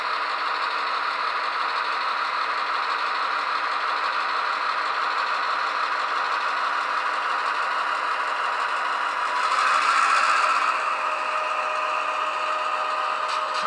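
Sound-decoder diesel engine from an Athearn GP38-2 model locomotive with Tsunami sound runs steadily at low speed, a constant mid-pitched rattling drone with a brief brighter hiss partway through, no talk.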